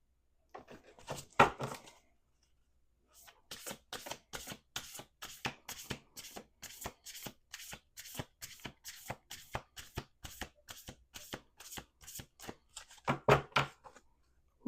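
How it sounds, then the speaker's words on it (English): A deck of oracle cards shuffled by hand, close up, in a long run of quick crisp riffling taps with a short burst first, a pause, then steady rhythmic shuffling ending in another flurry, with no talking. "We're going to do 2 more shuffles because this is annoying me."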